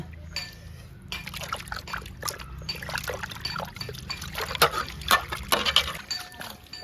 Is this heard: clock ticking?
no